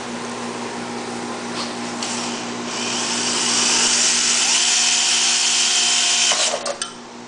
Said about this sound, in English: And again, drill the pilot hole.